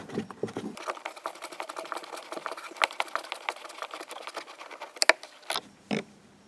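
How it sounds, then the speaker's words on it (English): Small clicking and ratcheting taps from a Torx T20 screwdriver backing out a screw on the front driver's door panel of a Peugeot 307, close and fairly quiet, with a couple of sharper clicks near the end. "We take Torx T20 screwdriver and we remove the screw."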